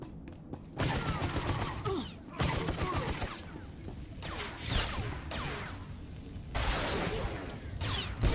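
Repeated bursts of blaster gunfire from the Star Wars: The Old Republic video game as AA guns are destroyed, dense loud volleys with crashing impacts and whooshes, broken by brief lulls.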